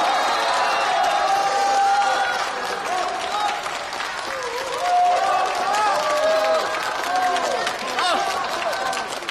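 Wedding guests give a warm, sustained round of applause for the groom's entrance, with whistles and cheers over the continuous clapping and some voices mixed in.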